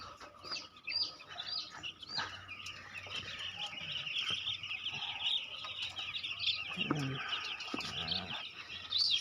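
Thousands of three-day-old chicks on a poultry farm keep up dense, continuous high peeping, with a few lower clucks and brief rustles, heard at moderate level.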